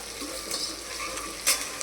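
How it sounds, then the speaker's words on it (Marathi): Onion and curry leaves sizzling in hot oil for a mutton tempering, a soft steady crackle with a brief sharper spit near the end, no talk. "कढीपत्ता टाकते आणि कांदा टाकला फ्राय व्हायला"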